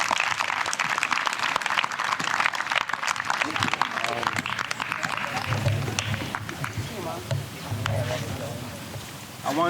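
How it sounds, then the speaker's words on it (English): A group of teachers applauds at a school gathering in Sierra Leone, a busy patter of clapping mixed with chatter and voices throughout. "Do you want to clap for that again?"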